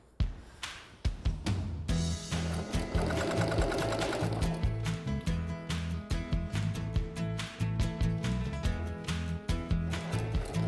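A sewing machine stitches fabric for a kimono sleeve garment, its steady rapid needle rhythm running close and loud after a few short starts, with brief pauses and restarts.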